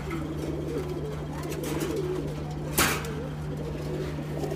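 Pigeons coo softly in low, rolling murmurs over a steady electrical hum, with a brief sharp knock partway through.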